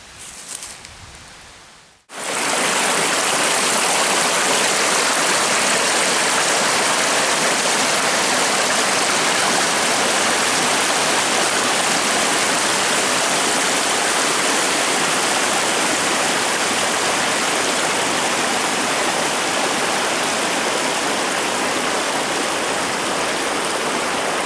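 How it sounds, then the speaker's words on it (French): A stream flows close by in the outdoors, a steady, loud broadband rush of water that continues without a break after a short quiet opening. "je me retrouve près du ruisseau"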